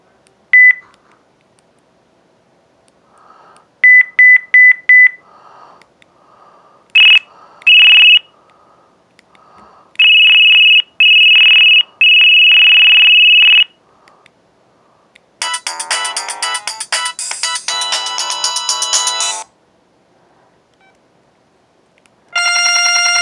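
A series of ringtones plays from an LG enV VX9900 phone: short electronic beeps and tone bursts first, then longer sustained tones, a dense buzzy melody, and a final tone, loud and close with gaps between them.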